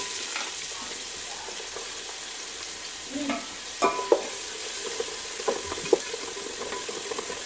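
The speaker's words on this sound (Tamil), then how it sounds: "அடுத்தலாம் வெங்காயம் பெருசு பெருசாக கட் பண்ணி வச்சுருக்கேன், அதை போட்டுருங்க" Large-cut onions fry in a hot pan with a constant, even sizzle, broken by a few sharp clinks and scrapes of stirring near the middle and end.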